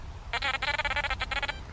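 A malfunctioning metal detector gives off odd warbling electronic tones in the rain, two bursts of a buzzy, pulsing beep separated by a brief gap, loud and close over faint background noise.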